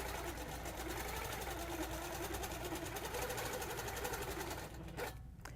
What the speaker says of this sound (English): So I've got my ruler in position, and we're going to start stitching around.